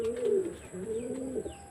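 Racing pigeons coo in a low, throaty rhythm, several soft rolling calls close by with a faint chirp or two in the background.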